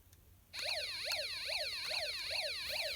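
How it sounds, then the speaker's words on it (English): A Snap Circuits Extreme SC-750 alarm circuit, completed by jumper wire ends dipped in a cup of water, suddenly starts a loud, close electronic siren that sweeps up and down in a steady repeating wail. "The water conducts electricity and completes the circuit to sound the alarm."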